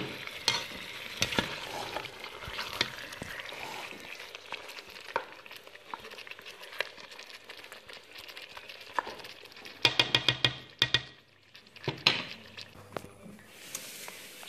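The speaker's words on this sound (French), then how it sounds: "Et je laisse mijoter 3 minutes." Tomato and pasta sauce cooking in a pot with parsley and coriander, giving a soft continuous sizzle with occasional stirring clatters and spoon taps, quiet and close.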